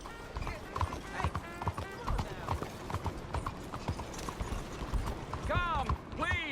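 Horse hooves clip-clop along a trail in the western video game Red Dead Redemption 2, a steady rhythmic clatter under several overlapping voices, with a brief whinny near the end.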